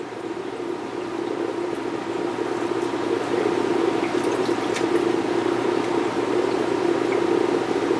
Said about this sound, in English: the instructions from Tropica are to rinse this off so that it doesn't have any gel left in it